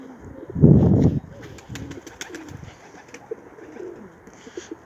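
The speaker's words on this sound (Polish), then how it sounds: "parę jest gołębi" A pigeon in a breeder's loft gives a low, throaty coo up close, followed by softer cooing and faint chirps and rustling in the background.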